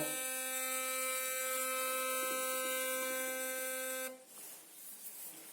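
An electric toothbrush runs in water, one of several sonic models, a Seysso Basic, Sarmocare S100 or Xiaomi Soocas X3. A steady, loud buzzing whine holds for about four seconds, then cuts to a fainter, splashy churn.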